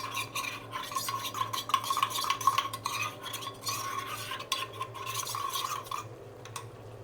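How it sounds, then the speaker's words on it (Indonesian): A spoon stirs a cornstarch-thickened mixture, scraping steadily and rhythmically against the pot with continuous close clinks and rubbing, no voices. "Kita aduk lagi, karena tadi udah didiemin lumayan lama"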